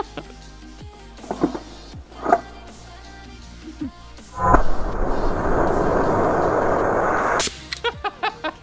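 An airsoft pistol running low on gas fires in sharp single cracks, then lets out a long continuous gassy hiss as it vents, followed by a quick run of weaker shots, close up.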